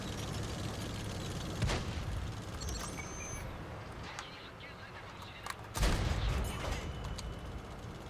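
Tank cannon shots in World of Tanks, two heavy booms a few seconds apart, loud and close over constant engine rumble and battle noise, with a voice talking throughout.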